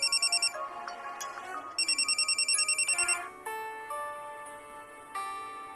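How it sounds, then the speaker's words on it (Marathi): A phone ringtone pulses in rapid repeated beeps, then pauses and starts again, over soft background music with no talking. "मी स्नेहलताला फोन करते"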